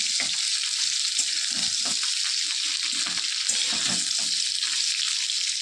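Kochu loti (taro stolons) sizzle in hot oil with black cumin seeds in a pan, a continuous bright frying hiss broken by soft scraping taps of a spatula as the pieces are stirred.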